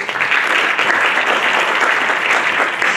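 Sustained audience applause fills a panel event at a Bucharest hotel entrepreneurship forum, steady dense clapping throughout, loud and close, with no talk over it.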